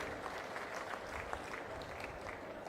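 Crowd applause at an outdoor political public meeting in Achanta, a dense, steady clapping wash that holds at an even level from start to finish with no voice over it.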